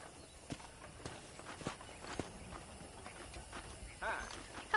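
Horse hooves clip-clop at a steady walking pace in the Red Dead Redemption video game, soft and even on a ranch, with faint ambient game sound beneath.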